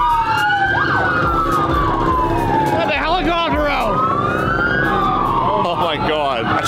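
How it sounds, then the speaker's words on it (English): A police siren wails and yelps loudly nearby, rising and falling in sweeping tones over traffic noise and the rumble of engines. "The cops come to shut it down."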